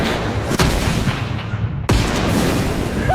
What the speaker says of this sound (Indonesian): Sudah mendengarkan ledakannya?